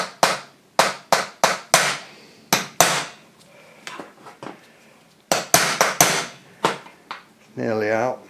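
A hammer taps the motor shaft out of a Rockola 430 jukebox, sharp metallic knocks landing in quick bursts with pauses between, close and loud, followed by a short voiced sound at the end.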